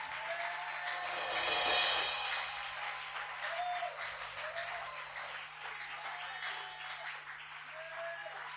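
A church congregation applauds steadily and warmly, with scattered cheers and voices rising through the clapping.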